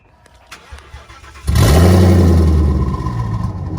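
A 2019 Hellhorse Performance twin-turbo Mustang making over 800 wheel horsepower fires up after a few faint clicks, then settles into a loud, deep, lumpy idle with a coarse, tractor-like chug that holds steady.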